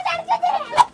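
Backyard chickens being chased during a house move give short, sharp clucks and squawks, with a louder burst near the end, close by and without talk.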